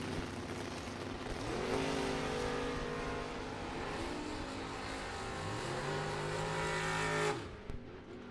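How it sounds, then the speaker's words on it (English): Drag racing cars in a Super Pro and bracket racing event roar loudly down the strip toward the finish line, engines howling and shifting pitch as they accelerate, then cutting off abruptly near the end. "At the stripe, they're working the throttle at the finish line"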